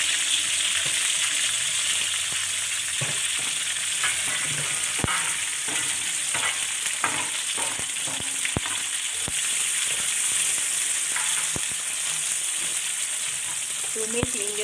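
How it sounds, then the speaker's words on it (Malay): Shallots and lemongrass fry in hot oil for Chettinad mutton varuval, a loud continuous sizzle broken by repeated spatula clacks and stirring scrapes against the pan. "tumis hingga bawang merah masak ya."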